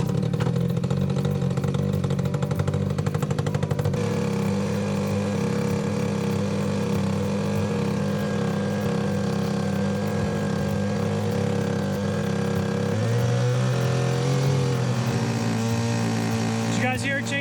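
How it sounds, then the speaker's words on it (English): A farm pump runs steadily and loudly close by. Its steady drone shifts pitch partway through as it begins pumping, with a faint clatter near the end. "Did you guys hear it change tone? That means it's pumping."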